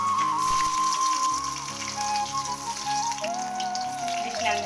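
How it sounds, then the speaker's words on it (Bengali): Potatoes frying in hot oil in a pan make a steady, close crackling spatter for the whole stretch, with a faint tonal background running underneath. "ভাজা তেলে আলুগুলো ভালো করে কাপড়ে ভেজে নেব"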